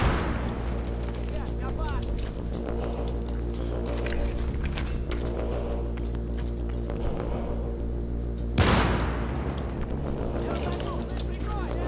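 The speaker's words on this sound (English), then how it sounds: "You threw a grenade at me." Grenade blast in the Battlefield 3 video game, a sudden broadband boom near 8.6 s cutting through continuous game noise and rumble, with other sharp bursts earlier and voices talking throughout.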